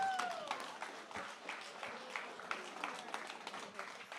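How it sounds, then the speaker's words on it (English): Audience applause at a community gathering: a steady patter of many hands clapping throughout, moderately loud and continuous, with a brief faint tone near the start. "Y'all can clap."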